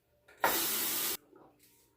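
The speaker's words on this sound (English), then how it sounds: "Now we'll rinse the razor" Running water hisses steadily from a tap as a Pearl Flexi razor is rinsed, a loud close burst lasting under a second before cutting off abruptly.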